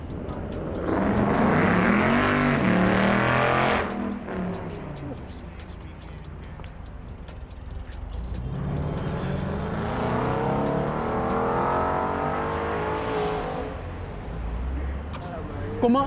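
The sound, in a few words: car engine revving and driving past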